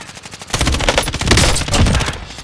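Rapid automatic gunfire in the video game Call of Duty Warzone, a dense burst of close, loud shots starting after a brief quieter lead-in and continuing steadily to the end.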